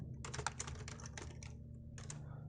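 Code is typed on a computer keyboard in quick bursts of soft, close key clicks with short pauses between runs, all quiet and with no talk.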